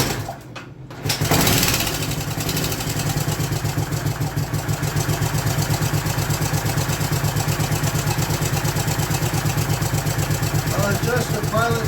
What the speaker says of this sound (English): I'm going to start the bike, and I'm going to set my idle up on my right carburetor this time